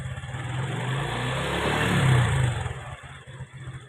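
A motorcycle engine revs right after a cold start, a steady mid-pitched engine drone swelling louder in the middle and then easing back with a slight rattle, close by with no talk.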